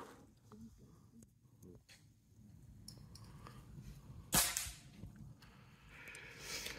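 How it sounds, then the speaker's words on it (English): A rifle fires at a target on a shooting range, a single sharp crack partway through that stands out from the quiet outdoor air. Someone talks quietly before the shot. "what they do is they're taking two shots each at each target"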